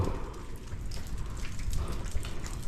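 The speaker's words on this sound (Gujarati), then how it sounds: "ચોમાસાના વરસાદનું પાણી ટપકી રહ્યું છે" Monsoon rainwater drips and patters steadily onto a hard surface inside the Talaja caves, a close, continuous spatter of drops without any voices.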